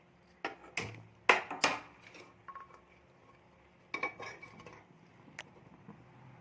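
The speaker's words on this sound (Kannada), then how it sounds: "ಸ್ಟವ್ ಹಚ್ಚಿ ಕುಕ್ಕರ್ ಇಕ್ತಾ ಇದ್ದೀನಿ ಒಗ್ಗರಣೆ ಹಾಕೋದಕ್ಕೆ" A metal pressure cooker clanks and knocks against a stove in a few sharp bursts, with a pause and then more clattering.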